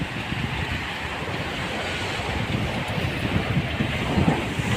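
Sea waves wash up a beach where high water reaches close to the road, a continuous roar of surf mixed with strong wind buffeting the microphone.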